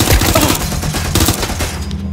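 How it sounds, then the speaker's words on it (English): Rapid automatic gunfire in the video game Watch Dogs Legion rattles close and loud in dense bursts, with shots overlapping for the whole moment. "Who else is shooting at me?"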